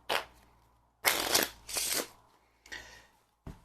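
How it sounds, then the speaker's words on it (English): A deck of playing cards is riffle shuffled several times, each pass a brief crisp fluttering burst separated by short pauses, close and quiet. "let's say the spectator will want to riffle shuffle. Just like so."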